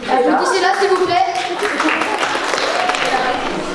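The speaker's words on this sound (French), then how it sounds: "Applaudissez-la s'il vous plaît" Audience applause at a school awards event, a steady burst of clapping with voices talking over it.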